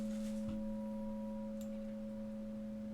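A steady synthesized drone holds two pure tones throughout, with a faint sweeping tone partway through, and no one speaking.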